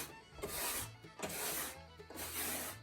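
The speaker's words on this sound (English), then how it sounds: "Now I'm just going to take the old trusty broom and give her a nice sweep." A broom sweeps across a boat deck in three long, steady strokes, each a close, broadband scratching swish with brief pauses between.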